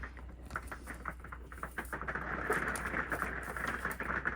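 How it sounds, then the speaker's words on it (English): Steady rain pattering on a surface at a campsite in Dolly Sods, West Virginia, a dense continuous patter of drops that slowly grows a little louder, with no voices. "Since the rain seemed to be picking up a bit"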